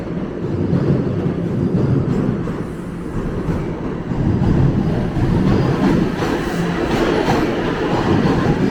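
A northbound Toronto TTC subway train rumbles loudly and steadily past, its wheels clattering over the rails, with no voices heard.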